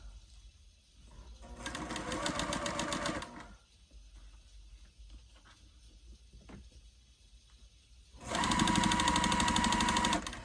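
A sewing machine stitches 1.5 inch fabric strips for a honey bun quilt block, running in two loud steady bursts with a quieter stretch of handling noise between them, no talking.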